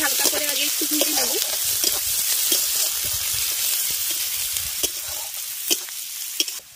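Chopped onion and green chili frying in a pan for a flattened-rice cutlet, a steady close sizzle with scattered scraping clicks from stirring throughout.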